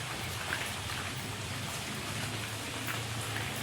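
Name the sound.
rain falling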